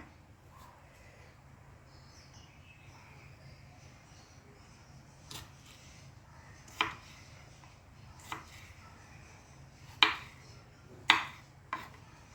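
A knife slices a raw mango lengthwise on a cutting board for a Kuttanad-style mango and fish curry, giving a handful of sharp, separate cuts that come closer together toward the end over a quiet, steady room hum.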